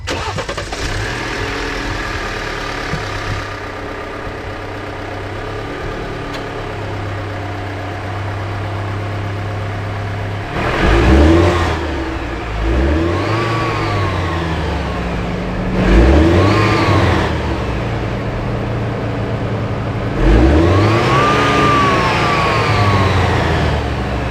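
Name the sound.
car engine starting and revving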